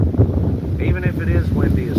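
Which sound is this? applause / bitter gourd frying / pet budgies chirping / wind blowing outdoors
wind blowing outdoors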